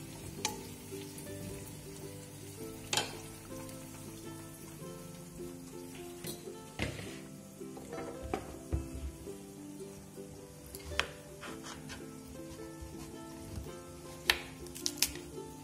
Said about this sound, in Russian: А пока она обжаривается, я нарежу картошку и кабачки.